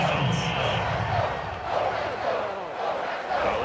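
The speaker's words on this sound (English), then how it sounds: "Well, this crowd does not like that call." A stadium crowd at an NFL game roars in disapproval of a penalty call, a broad swelling murmur under steady commentator speech.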